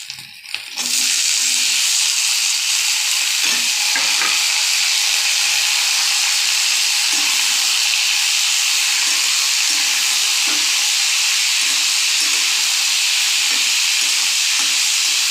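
Pumpkin dropped into a hot pan, bursting into a loud, steady hissing sizzle that holds without a break, with a few faint stirring knocks underneath.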